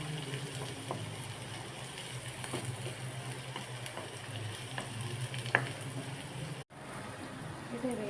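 Onions sautéing in a pan give a quiet, steady frying hiss with faint stirring clicks and a low hum underneath, continuing without pause apart from one brief dropout near the end.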